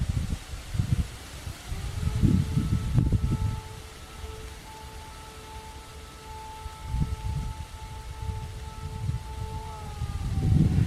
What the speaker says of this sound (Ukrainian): я так розумію, ви чуєте, сирена. Знову йде обстріл.